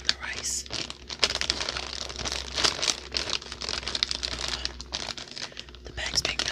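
A rice cracker package bag is crinkled and crumpled continuously, with dense, close, steady rustling and a few sharper crackles throughout, while whispering is faintly audible beneath.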